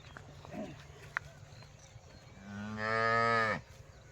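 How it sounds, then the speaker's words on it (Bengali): A cow mooing outdoors on a farm in the Chalan Beel wetland area: a few faint low calls, then one long, loud, close moo of about a second rising out of quiet background noise. "এই গরু কি এখানে বাইরেই থাকে?"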